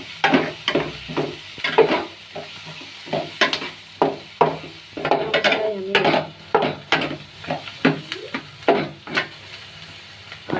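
Onions with salt and chili powder sizzle in a pan as a utensil scrapes and stirs them in a steady rhythm of repeated strokes, loud and close, no talk.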